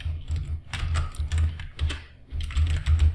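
Quick bursts of keystrokes on a computer keyboard as code is typed during a programming lesson, close and fairly loud, coming in uneven runs with short pauses and no talking.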